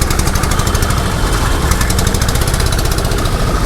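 Motorcycle engine idling close by on a Delhi street, a loud, dense, rapid-pulsing chug that holds steady throughout without any talk.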